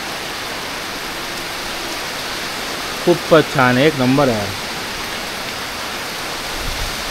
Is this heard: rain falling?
yes